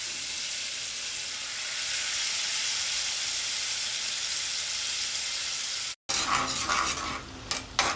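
Drumstick pulp hits hot oil for a drumstick chutney, giving a loud, steady broadband sizzle that runs continuously, then a brief cut and a rougher, clattering sizzle with stirring and pan scrapes near the end.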